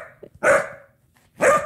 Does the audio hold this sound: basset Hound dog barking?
yes